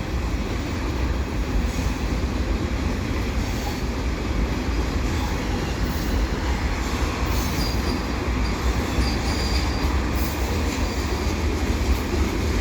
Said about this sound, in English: a westbound CP train headed underneath the ramps